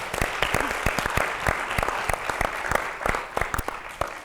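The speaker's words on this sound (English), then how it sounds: "Let's give everyone a round of applause" An audience at a live onstage interview event gives a round of applause, crisp individual claps distinct over a continuous wash of clapping that carries through to the end.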